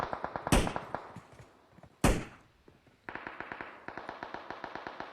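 Gunfire in a PUBG-style battle royale match, rapid evenly spaced shots in bursts broken by two loud booming reports, close and prominent with no talk over them.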